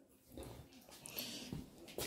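A small dog whimpers softly indoors, with faint, breathy whines and short nasal squeaks spread across a couple of seconds, close by and quiet.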